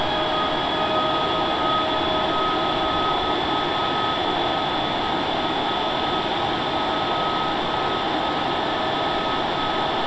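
A steady, loud airplane engine drone fills the cabin during night flight, a constant broadband roar with faint tonal whines and no break throughout.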